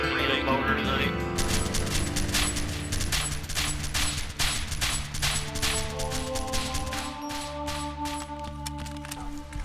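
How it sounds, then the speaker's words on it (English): Machine gun fire in the video game Arma 2 DayZ, a fast run of sharp repeated shots that fills most of the stretch, loud and fairly close, alongside game sounds and some talk. "some machine gun hits us"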